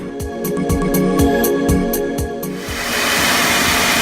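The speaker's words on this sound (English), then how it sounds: "I'm gonna get in there and try to see if I can vacuum any more stuff." A vacuum cleaner sucks dust and debris from refrigerator coils, a steady close whine broken by repeated bumps and knocks of the nozzle against the coils, then easing into a smoother, airier suction roar.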